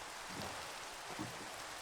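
Steady rain falls in the Minecraft Dinocraft modpack, a soft continuous hiss with a faint low rumble underneath and no talking.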